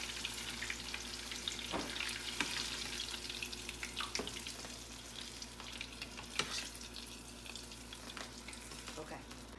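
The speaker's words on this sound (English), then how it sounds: "I'm going the regular old frying way and giving it a nice crisp." Steady crackling sizzle of buffalo chicken dip balls deep frying in hot oil, close by, with occasional sharper pops and a faint background hum.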